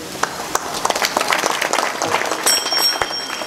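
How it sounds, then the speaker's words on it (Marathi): Crowd applause at a comedy kirtan in Dokewadi village: a steady patter of many hands clapping together, moderately loud and fairly close, building slightly toward the end with no talking over it. "टाळी वाजवा तुमच्याबद्दल"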